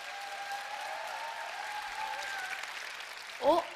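Soft applause from an audience at a business presentation greets a speaker on stage, steady and somewhat distant under a faint tonal hum, ending with a brief louder burst.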